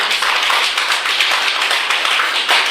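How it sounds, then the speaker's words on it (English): Vice principals seated as an audience at a teaching workshop clap on request, producing a dense, loud, continuous patter of many hands that holds steady throughout. "Can you just clap with sincere mood? Just clap."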